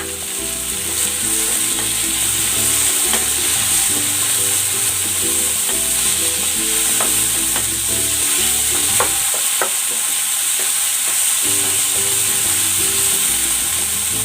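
Onion and tomato sizzle steadily in a hot pan with oil, a continuous loud frying hiss with occasional stirring scrapes and clinks, no talking.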